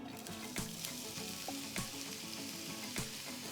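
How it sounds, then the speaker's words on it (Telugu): Finely sliced onions fry in oil and ghee with cloves, cardamom and cinnamon for egg curry, a steady soft sizzle broken by a few distinct scrapes and clinks of stirring. "ఉల్లిపాయలు రంగు మారేంత వరకు వేపుతూ ఉండాలి."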